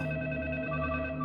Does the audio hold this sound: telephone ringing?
yes